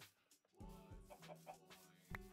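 Chicken clucking in a video game: a few short, quiet clucks in an irregular rhythm, soft and close, with no talking.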